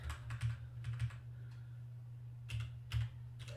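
Keystrokes on a computer keyboard in short bursts of clicks with pauses between them, close and fairly quiet over a steady low hum, entering a line of input in a GW-BASIC program.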